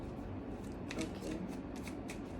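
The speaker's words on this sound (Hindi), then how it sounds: "सबके जल्दी से कार्ड्स निकालती हूँ।" Tarot cards being shuffled and drawn for a reading, a steady papery riffle and flutter with a few crisp slaps partway through, close and moderately loud, heard alone.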